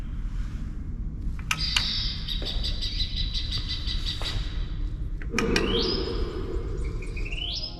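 Recorded bird calls play in the bird hall of a natural history museum in Buenos Aires, a series of clear whistles and chirps standing out over a continuous low hum of room noise.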